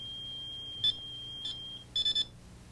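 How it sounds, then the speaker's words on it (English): An ATT 9000 security system sounds its alarm after the transmitter cover is opened: a thin steady high tone runs under several short sharp electronic beeps, with a quick triple burst near the end. "open the transmitter cover, which will trigger the alarm"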